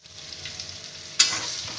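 Eggplant and flat beans dropped into a pan of lightly fried potatoes, a quiet sizzle that jumps to a sharper, louder hiss as the vegetables hit the oil.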